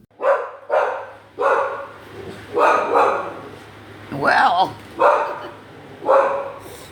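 A dog barks repeatedly nearby, about eight loud barks spaced roughly a second apart, with a brief spoken word among them.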